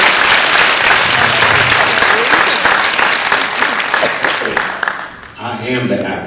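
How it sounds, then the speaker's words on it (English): A crowd at a motivational speaking event in Columbus, Ohio gives a loud, dense round of applause with cheering, heard up close. It thins out near the end as voices come through. "Give him a tremendous round of applause."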